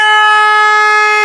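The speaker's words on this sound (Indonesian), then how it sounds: "Bunyi dia, klaksonnya bunyi." A car horn sounds during a diagnostic actuator test, giving one loud, steady, sustained tone for over a second that cuts off cleanly, with no talk over it.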